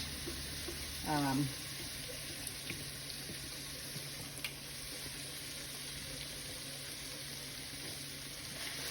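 Ground pork browns with bacon in bacon oil, giving a low, steady sizzle through the whole stretch, with a brief voice near the start and a few faint utensil taps.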